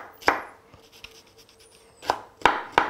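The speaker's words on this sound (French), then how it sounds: "je vais couper le plus finement possible" A knife chops a shallot finely on a board, with sharp, close strikes spaced irregularly and quieter slicing between them; no one speaks.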